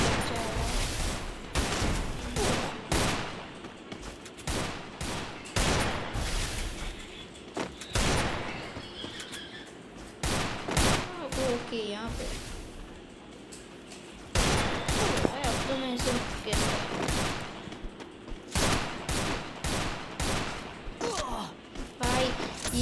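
Gunfire in the video game Garena Free Fire during a one-versus-two Lone Wolf match, with repeated rapid bursts of automatic shots and fusillades in clusters and quieter gaps between them, and a player talking at times underneath.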